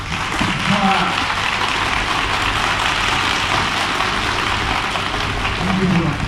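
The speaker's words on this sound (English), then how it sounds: "Good round of applause" An audience at a teachers' empowerment talk in Ludhiana gives a steady round of applause. The dense clapping holds at an even level throughout, with a few faint voices underneath.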